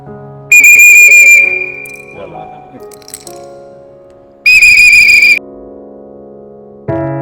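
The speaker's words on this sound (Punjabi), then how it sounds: "ਸੀਟੀ ਮਾਰ" Two loud, shrill whistle blasts, each about a second long, separated by a few seconds of quieter background noise.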